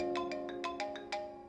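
A phone ringtone plays a repeating electronic melody of short bright tones, clear and steady, with no voices.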